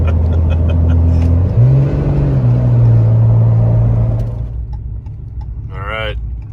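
A vehicle engine revs at half throttle, its hum climbing sharply to a higher, sustained pitch before settling and fading, with a voice briefly talking at the end.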